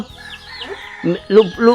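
Chickens cluck in a village of the Yoy ethnic group in Khammouane, Laos, with three short, fairly close bursts of fowl calls, the last two strongest, over a low background hum.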